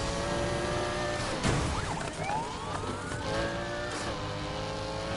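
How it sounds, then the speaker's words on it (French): Another car passes in the racing video game Need for Speed Heat, an engine sweeping through with rising and falling pitch over steady road noise, with a brief siren-like wail layered in. "Ouais, c'est une autre voiture."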